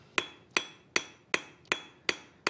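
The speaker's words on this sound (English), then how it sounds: "I would probably do a lot of the forging with a regular smooth-faced hammer." Smooth-faced hammer forging a metal neck wire, seven sharp ringing strikes at a steady, even rhythm, close and clear with no talk.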